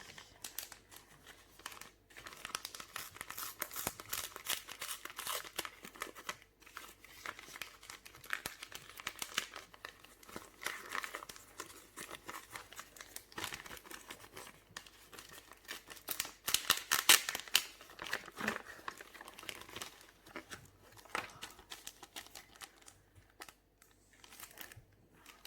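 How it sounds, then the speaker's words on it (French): A paper package being unwrapped by hand, steady crinkling, rustling and tearing of paper over about twenty-five seconds, close and continuous with occasional sharper crackles and no talking. "on va ouvrir le paquet"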